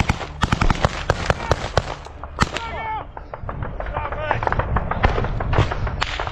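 Explosions and sharp cracks in a trench during combat in the war in Ukraine, a rapid series of loud close bangs and pops, followed by denser crackling with shouting voices in the mix.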